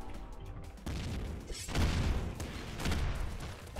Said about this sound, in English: Infinite machine gun already